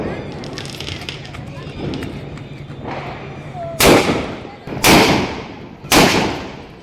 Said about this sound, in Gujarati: મિર્ચી હાથમાં પકડીને આ મિર્ચી બોમ્બ આપણે ફોડવા જઈએ છીએ.